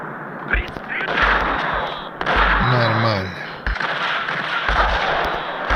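A grenade explosion and gunfire in the Max Payne video game: deep, heavy blasts and thumping shots repeat close by, with someone talking over the action.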